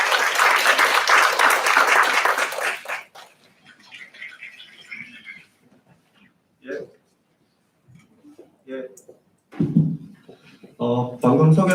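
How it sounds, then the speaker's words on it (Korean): Applause for a speaker called up at a Daejeon social welfare policy meeting with a mayoral candidate, a dense burst of clapping for about three seconds that cuts off, followed by a few scattered sounds and speech. "큰 박수로 맞이해 주시면 감사하겠습니다"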